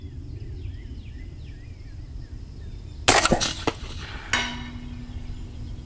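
An 8.6 Blackout rifle fires outdoors: birds chirp quietly, then a sharp, loud gunshot cracks with a trailing echo, followed moments later by a second fainter report.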